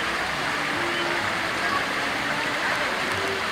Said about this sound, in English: Mickey Mouse waterfall.